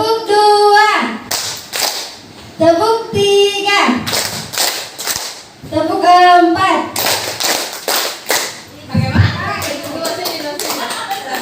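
A class claps in unison in short rhythmic bursts, with children's voices chanting and calling between the patterns, clear and fairly close.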